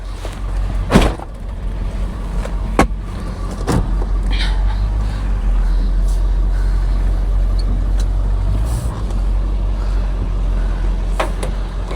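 A Ford F350 pickup truck rolls slowly over rough ground, its engine a steady low rumble with a few knocks and clunks from the body along the way.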